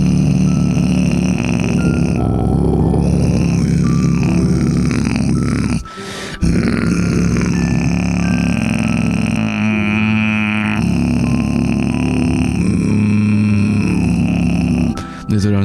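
Vibration bass throat singing: a loud, gravelly, crackling low drone sustained almost continuously, with brief breaths and shifts in tone, produced close up by a single voice.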